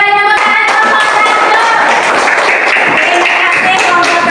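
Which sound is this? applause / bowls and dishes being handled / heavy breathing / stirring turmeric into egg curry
applause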